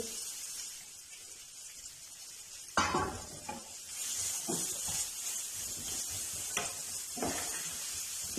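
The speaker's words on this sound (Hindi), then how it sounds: "प्याज को हमने सौते करना, बहुत ज़्यादा फ्राई नहीं करना।" Finely chopped onion hits a pan of already roasted spices and starts to sizzle. A sudden burst of frying rises, then a steady hiss continues with a few stirring scrapes and clatters of the pan. No one speaks.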